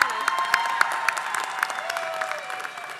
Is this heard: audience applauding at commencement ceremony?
yes